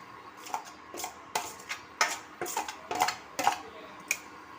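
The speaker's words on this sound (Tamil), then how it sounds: "தேங்காய் சேர்த்து கிளறிட்டுக்குவோம்" Grated coconut is stirred into melted jaggery in a pan over a medium flame, with a spoon clinking and scraping against the metal in a series of irregular taps and knocks, close and fairly clear.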